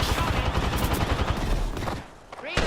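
Rapid gunfire in a video game, bullets fired through a wall, a dense stream of shots that drops off briefly near the end before a few more bursts.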